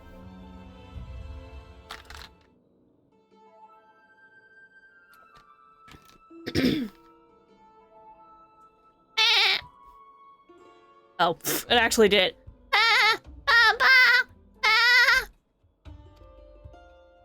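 Sheep bleating in Final Fantasy XIV, several loud, wavering bleats in quick succession near the end, preceded by a single shorter bleat, with a person talking in between.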